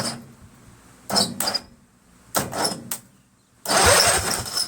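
A Kohler Command V-twin engine on a Craftsman 20.5 HP lawn and garden tractor cranks in several short bursts, the starter spinning strongly and close, with quiet pauses between attempts and a longer final crank.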